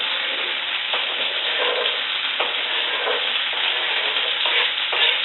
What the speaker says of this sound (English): now I'm going to go ahead and add in my celery